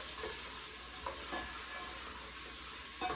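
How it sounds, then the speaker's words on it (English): Soup ingredients with olive oil being stirred together in a pot, giving a steady soft sizzle with a few faint scraping stirs, heard alone at low volume. "And then I'm going to stir that all together"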